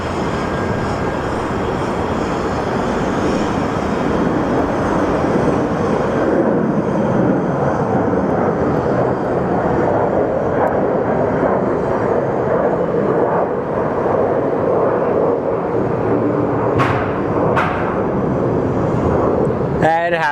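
Airliner engines at Phoenix Sky Harbor airport, a steady broad roar from a Dreamliner lining up for departure, constant and fairly loud with wind buffeting and someone talking intermittently.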